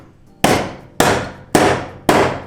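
Four evenly spaced, hard blows land about half a second apart as a cracked fiberglass bumper on a KA-engined Nissan S13 is tapped into place, each a sharp crack with a brief ringing decay, loud and close.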